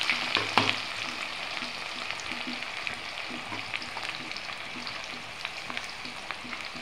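Chopped onions with bay leaves frying in hot oil in a pan, a continuous close sizzle punctuated by rhythmic scraping and clinks of a spoon as they are stirred, with no voices.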